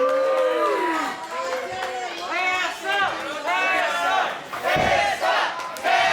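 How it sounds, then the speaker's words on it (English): Crowd at an intergender professional wrestling match in Sevierville, Tennessee, roaring and chanting for Tessa Blanchard, loud rising and falling cheers and shouts in waves, voices overlapping with crowd noise. "Crowd here in Sevierville, Tennessee, coming alive for Tessa"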